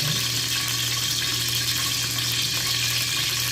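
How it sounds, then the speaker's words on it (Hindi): Water poured into a pan of oil on a kitchen stove while making semolina malai halwa, a continuous even rush with a low steady hum beneath, loud and unbroken for a few seconds. "तो 1 कप जो है मैं पानी का इसमें डालूंगा"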